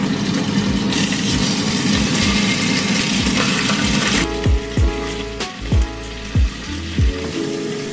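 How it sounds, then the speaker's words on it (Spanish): Fish or meat fillets browning in oil in a frying pan give a loud, steady sizzle, followed later by several dull knocks and thumps in the pan over continued frying. "Chorrito de aceite. Hay que comprar aceite de oliva hoy sin falta. Y vamos a dorar los filetes."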